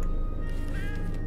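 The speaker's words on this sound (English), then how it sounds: "Can still hear some kitties though." Cats meow in the video game Hidden Paws on its Christmas Islands level, a short soft mew rising over a steady low game background hum.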